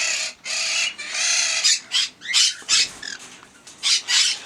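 A pet parrot, a molting monk parakeet, squawks loudly and close in a string of harsh, rasping calls, some long and sustained, others short bursts.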